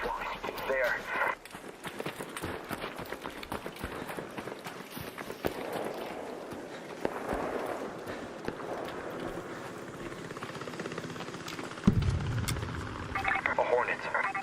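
Hornet drones in the video game Arc Raiders buzz and whir steadily throughout, a continuous mechanical drone with scattered sharp bursts and impacts, while people talk over it.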